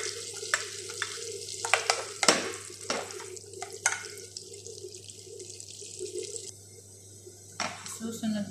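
Garlic sizzles steadily in a hot pan at the start of a seafood soup, with sharp clattering stirs and scrapes breaking through the close, continuous frying hiss.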